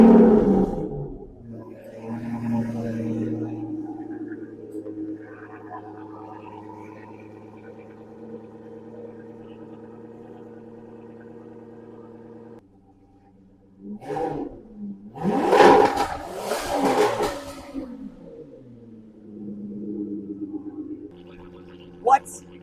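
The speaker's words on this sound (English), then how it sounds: "cold start, idle, and then giving it some revs to see if there is a measurable improvement or loudness increase in the decibels" An Aston Martin Vanquish fitted with an X-pipe exhaust barks loudly on a cold start and settles into a droning idle. A silence follows, then a loud burst of revving, with voices likely mixed in.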